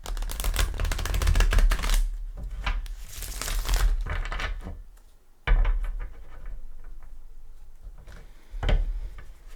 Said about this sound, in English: Let's give it a couple shuffles, so even though they're pre-shuffled.